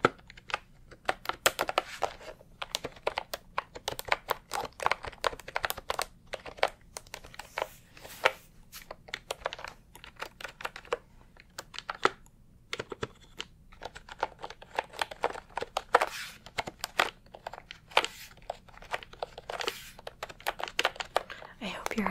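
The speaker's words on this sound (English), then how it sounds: "The mechanical keyboard makes a really good sound, I have to say." Rapid, uneven clacking of keys on a mechanical computer keyboard, close and crisp, in continuous typing bursts with brief pauses over about twenty seconds.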